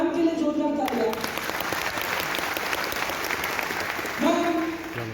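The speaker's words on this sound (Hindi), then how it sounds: "एक बार मैम के लिए जोरदार तालियां।" An audience applauds a woman standing up at a direct selling business talk, a steady wash of clapping with a voice over it at the start and end.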